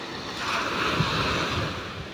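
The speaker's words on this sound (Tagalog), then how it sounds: "may kalbog nga po ulit ng alon" Ocean waves surge and wash steadily near a fishing spot on a dark sea, a broad continuous roar with wind buffeting the microphone and no talk.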